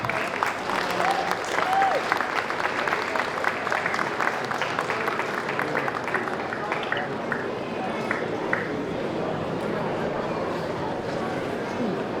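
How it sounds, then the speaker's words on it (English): A festival-stage audience at the Tucson Japanese Festival claps in sustained, dense applause that lasts about twelve seconds at an even level, fading slightly toward the end, with some voices mixed in. "How about another round of applause for Suzuyuki-Kai"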